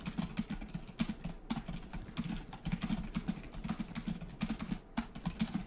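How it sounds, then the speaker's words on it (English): Loud, fast typing on a computer keyboard, a dense run of close clicky keystrokes in uneven bursts lasting the whole stretch, heard alone without talk. "You're typing really loud"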